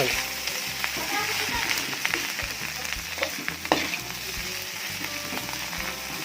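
Continuous sizzling of fried rice frying in a pan, with scraping and clinking of a utensil stirring through it close by.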